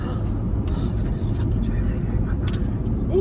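Road traffic rumbles as a steady, dense low drone, with passing vehicles and faint higher hisses on top and no single vehicle standing out.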